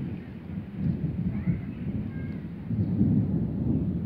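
Low, rolling thunder rumbles on through a rainy storm on a country farm, a moderately loud drawn-out growl that swells near the end, with no voices.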